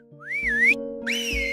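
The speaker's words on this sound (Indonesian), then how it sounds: "salah seorang prajurit memberi aba-aba dengan bersiul" A soldier's signal whistle, two rising and wavering human-whistled calls in quick succession, clear and fairly close over a steady low hum.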